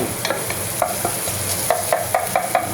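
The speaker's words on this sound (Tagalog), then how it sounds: "gisa natin ng kaunti yung bawang" Garlic sautéing in a small amount of oil, a steady close sizzle broken by several sharp scraping stirs of a utensil against the pan, with no talking.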